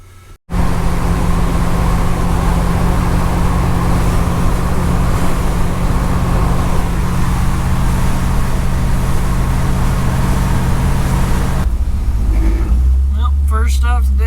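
A 1955 Chevy truck with an LS engine swap cruises at speed, its steady engine drone and road roar loud and continuous for most of the stretch before cutting off near the end.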